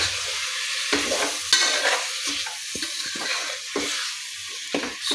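Chicken biryani masala stirred in a pan: a steady scraping, stirring rhythm with repeated sharp scrapes over a continuous close sizzle, no voices.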